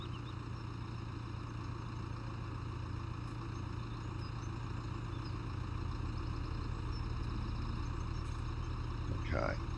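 A tractor engine idles at a low, steady hum before mowing grass and runs evenly the whole time with a faint rattle near the end.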